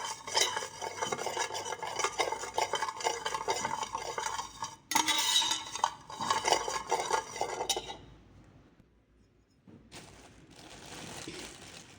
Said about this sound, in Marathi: चम्मचच्या साहाय्याने एकजीव करून घ्यायचं.